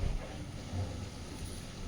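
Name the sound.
strong wind blowing outdoors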